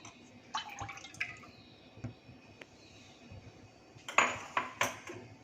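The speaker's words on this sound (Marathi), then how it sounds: "आपण आता पॅनमध्ये तेल गरम करायला ठेवूया." A metal pan is set down on a gas stove to heat oil for sponge gourd bhaji, giving scattered clinks and knocks of cookware, with a louder cluster of clattering near the end and no talking.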